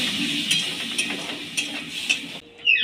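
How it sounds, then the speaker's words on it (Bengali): Aloo posto masala, potatoes with poppy seed paste, is stir-fried in a pan, with a soft sizzle under a steady rhythm of spatula scrapes about every half second, close by, followed by a brief pause and a final clatter. "এবার বাড়িটা ধুয়ে আর একটু জল দিয়ে দেব দিয়ে ভালো করে কষিয়ে নেব"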